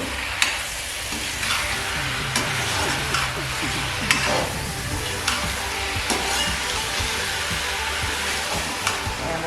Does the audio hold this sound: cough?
no